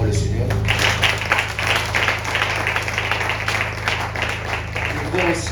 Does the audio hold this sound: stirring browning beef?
no